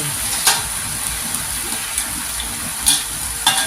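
Steady sizzling and crackling of morning glory frying over high heat in a hot wok, with a few sharper clatters of stirring scattered through, close and continuous.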